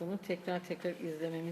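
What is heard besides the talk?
None of the usual background noises is heard.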